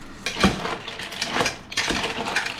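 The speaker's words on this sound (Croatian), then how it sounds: "To sve skupa zajedno dobro zmiješamo." Mussels with wine and breadcrumbs stirred in a pot, with close scraping and shell clinks arriving in a few uneven bursts and no voices.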